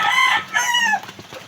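A chicken gives two loud, close calls, a drawn-out crowing cry followed by a shorter one, then a few faint clucks.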